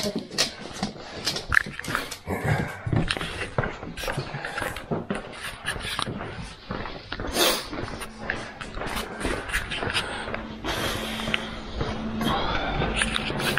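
A female dog whimpers in short, repeated bursts near a runner who has collapsed along a cross-France running route, with shuffling and rustling around her at a low, close level.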